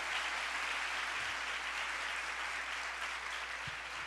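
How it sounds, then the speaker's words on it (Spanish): Faint, steady applause from the audience at a women's church conference, a soft continuous wash of clapping heard from a distance. "Pues un aplauso para todas ustedes."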